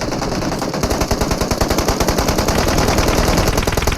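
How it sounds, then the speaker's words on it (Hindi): Rapid automatic gunfire in the video game PUBG, a loud, fast, evenly spaced burst of shots that runs steadily for several seconds with no talking. "इतने में मेरे सेकंड नंबर पे फायरिंग होती है"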